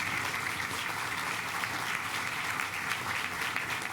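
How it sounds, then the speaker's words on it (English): Sustained applause from an audience at a governor's economic announcement in Greenville, a dense, even clapping that stays loud throughout. "you all deserve a round of applause for that"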